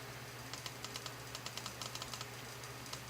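Rapid light clicks from a computer mouse during a digital math textbook lesson, about a dozen sharp taps in quick irregular bursts over a steady low hum, close and fairly quiet with no talking.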